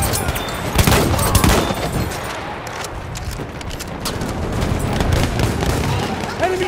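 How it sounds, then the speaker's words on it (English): Dense, loud gunfire rattles in Battlefield 1 gameplay, rapid bursts of machine gun fire layered with booms and a shouted voice in the chaos. "machine gun!"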